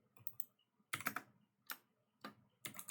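Keys on a small 70% computer keyboard clack in short, irregular bursts of quick keystrokes separated by pauses, close and quiet in a still room.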